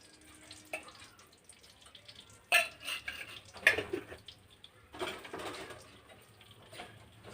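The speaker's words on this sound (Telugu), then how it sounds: "ఇదేంటంటే కంటిన్యూస్గా కలుపుతూ వేపాలన్నమాట లేకపోతే కొంచెం మాడిపోయే అవకాశాలు ఎక్కువ" Semolina (rava) roasting in ghee in a pan for rava laddu is stirred with a utensil, giving quiet, intermittent scrapes and clinks against the metal, with short pauses between strokes.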